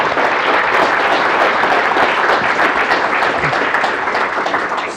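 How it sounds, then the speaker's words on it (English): Meetup audience applause after an accessibility talk, dense steady clapping from a crowd in a room that keeps going for the whole five seconds before starting to taper at the end. "a big round of applause for Paul, please."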